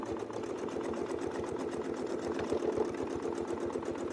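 A sewing machine stitches steadily alongside a Westalee ruler, its rapid, even mechanical chatter running unbroken and fairly close throughout, with no voices.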